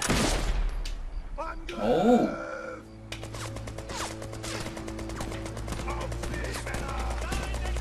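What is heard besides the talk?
gunfire from a sniper video game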